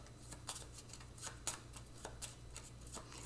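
Monster cards for the Cartographers board game being shuffled by hand, a soft rapid riffling and slapping of card stock in several close bursts with no talking.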